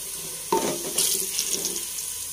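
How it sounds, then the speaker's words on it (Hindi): Water is poured into a cooking pot of browned onions, a sudden splash followed by a rushing, hissing pour and bubbling sizzle, close and loud, with no talking. "ये देखिए हमने थोड़ा सा उसमें पानी डाला है"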